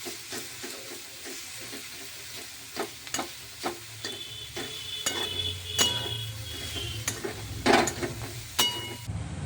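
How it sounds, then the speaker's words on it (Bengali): Chopped chicken and onion fry together in a small amount of oil with a loud, steady sizzle. Stirring adds rhythmic scraping knocks and a few clinks of utensil on pan throughout. "চিকেনের কুচিগুলোর সাথে পেঁয়াজ কুচি সব একসাথেই ভাজতে থাকবো"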